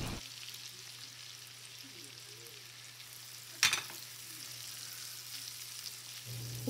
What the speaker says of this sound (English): Cook the onion and the carrots for 3 minutes.